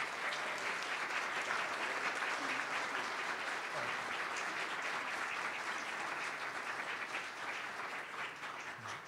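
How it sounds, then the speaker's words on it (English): An audience applauds the Northwood High School chorus with sustained, even clapping that fills the room at a fairly quiet level from start to finish. "Let's give these students a big round of applause"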